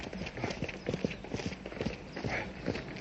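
A horse pulling an empty dog cart clip-clops along a country road at a fast pace. Regular, crisp hoofbeats sound fairly close throughout.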